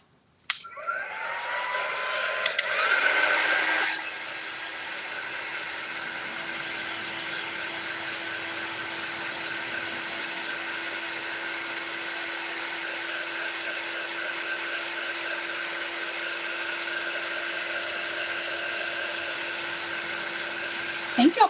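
A hair dryer blows steadily on a damp paper napkin Christmas ornament, a continuous close whooshing whine that starts with a louder burst and then runs evenly for about twenty seconds.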